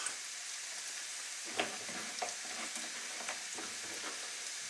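Onions and carrots sizzle steadily in a hot pan over high heat for Cantonese fried rice, a continuous close hiss broken by a few sharp stirring clicks and scrapes, with no talking.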